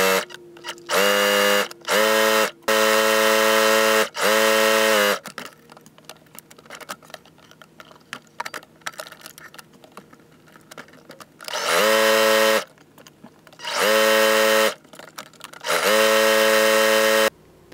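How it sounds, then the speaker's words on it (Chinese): Sewing machine running long wide running stitches, several loud bursts of stitching separated by pauses, quieter handling in between, no talk. "在没有缝合的那一个边上面缝2条针距比较宽的平针"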